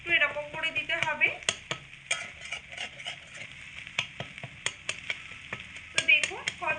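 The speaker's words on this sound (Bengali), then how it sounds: "এইভাবে অনবরত নাড়াচাড়া করতে থাকলে দেখবেন বন্ধুরা ডিমটা কিন্তু একদম ঝুড়ো ঝুড়ো ভাবে তৈরি হয়ে যাবে। খুন্তি দিয়ে এভাবে করে একটু এরকম করে দিতে হবে।" A spatula working scrambled egg around a frying pan, a rapid run of sharp metallic scrapes and taps over a thin sizzle, close, with a faint voice talking partway through.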